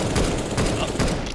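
Rapid auto sniper shots in a competitive shooter match, several sharp cracks in quick succession over a dense, loud game mix with faint voices underneath.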